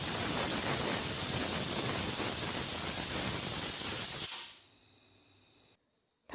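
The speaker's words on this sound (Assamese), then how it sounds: "এতিয়া কুকাৰত আমি অকল এটা হুইচেল দিম" A pressure cooker cooking paneer pulao lets out a loud, sustained whistle of hissing steam for about four seconds, then falls quiet while a faint high tone lingers briefly.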